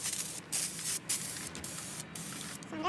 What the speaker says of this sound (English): So I'm just going to spray these white because I don't need this color.